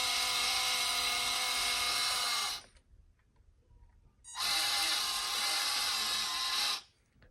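A repaired 1:12-scale MN99s RC 4WD truck with portal axles drives under power, giving a loud, steady high-pitched motor whine in two bursts with a short near-silent pause between them.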